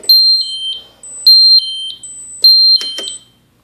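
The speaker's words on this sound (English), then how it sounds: "The alarm module will beep with 100 decibels." A Kason Sentinel coolroom and freezer alarm module sounds its panic alert as loud, piercing electronic beeps in three repeating bursts of stepped tones, close and alone.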